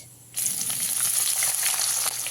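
Thinly sliced onions dropped into hot oil with nigella seeds and bay leaves, bursting into a loud, sudden sizzle that holds as a dense, crackling hiss close by.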